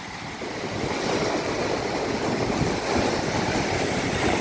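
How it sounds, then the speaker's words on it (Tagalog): Continuous roaring surf of waves breaking nearby, a dense wash of noise that swells slightly and holds steady throughout. "Gaano kalalaki yung mga alo na yan."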